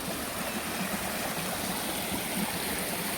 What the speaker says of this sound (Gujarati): આ જો અવાજ સંભળાય પાણીનો